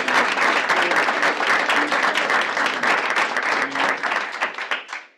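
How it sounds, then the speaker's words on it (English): A room of stakeholders at a meeting breaks into a strong round of applause, dense and sustained clapping that stays loud for several seconds before tapering off at the end. "I do want to make sure that we give them all a great round of applause"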